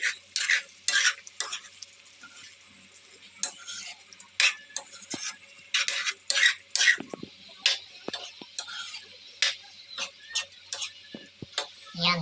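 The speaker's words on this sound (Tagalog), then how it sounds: "Okay guys, haluin natin para yan." A spoon scrapes and stirs minudo stew with beans in a pan, irregular clattering strokes close by over a faint simmering sizzle.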